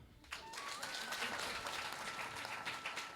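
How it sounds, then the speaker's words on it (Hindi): A seated audience at a spiritual discourse breaks into a burst of applause, many hands clapping together as a dense, steady wash at a distance, fairly faint and sustained throughout. "एक बार ताली बजाओ"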